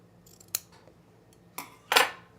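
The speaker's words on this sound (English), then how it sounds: "I'm going to trim this one a little more too." Scissors snip fabric while pants are trimmed during sewing: three quick, close cuts, a faint one early, another mid-clip and a louder, longer final snip, with quiet room tone between.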